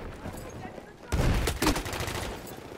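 Machine gun fire in the Battlefield 1 video game, a sudden loud burst of rapid automatic shots after a quieter stretch of distant gunfire, continuing to the end.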